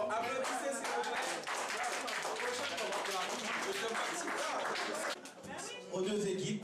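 Audience clapping after a team quiz match between La Citadelle and Avenir d'Haïti, a dense steady patter of many hands at moderate loudness that briefly dips near the end before resuming, with speech mixed in.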